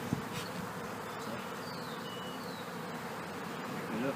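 Honey bees buzz in a soft, steady swarm drone at an opened beehive in spring, with occasional single bees passing close.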